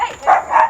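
Two sharp barks from a small but aggressive dog, close and loud, spaced a fraction of a second apart with no talking over them.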